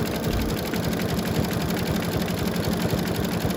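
An embroidery machine stitches through thick material for an eyeglass case, giving a steady, rapid mechanical hum and rhythmic stitching thumps that sound slightly strained, with no talking.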